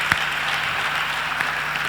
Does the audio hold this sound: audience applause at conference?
yes